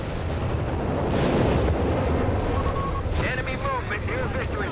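Mortar rounds and machine-gun fire from an M16 halftrack and a .30 cal pound panzers in Company of Heroes 3, a dense continuous rumble of blasts and rattling fire with a commentator talking over it.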